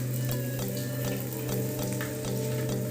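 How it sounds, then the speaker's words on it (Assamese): Egg and bread frying in a pan, a steady close sizzle with occasional soft ticks and crackles, even and continuous with no voices. "এতিয়া কণীটো অকণমান ভাজি হৈ গ'ল"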